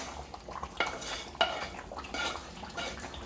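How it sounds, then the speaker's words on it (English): Okra is added and stirred into egusi soup in a cooking pot, giving soft, wet stirring with a few sharp clinks and scrapes of a utensil against the pot, close and steady. "Now I'll add the okra"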